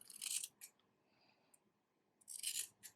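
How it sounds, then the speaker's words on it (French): Scissors snip off the protruding yarn ends of a crocheted table runner doily, two quiet close bursts of cutting at the start and end with a few faint clicks in the hushed pause between. "je vais couper tout ce qui dépasse"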